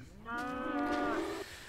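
A baby cow in Minecraft lets out one drawn-out, tonal moo lasting about a second, clear and fairly quiet with nothing else over it.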